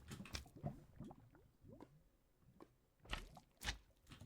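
A slime in Minecraft squishes and bounces, giving repeated wet, splatting squelches in an uneven rhythm, fairly close and loud, with a couple of heavier splats toward the end and no talk.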